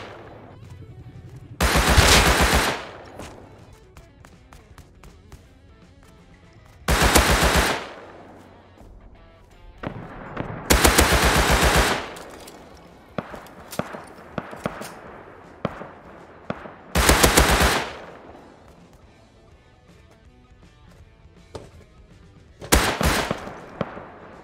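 Automatic gunfire in the survival game Rust, five loud bursts of rapid shots about every four to five seconds, each lasting a second or so, with quieter clicks and game noise between them.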